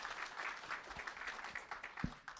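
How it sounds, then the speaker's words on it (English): An audience at a founders' club business event claps together, a soft, somewhat distant patter of applause that holds steady, then fades slightly at the end. "Let's give a second round of applause to Steve"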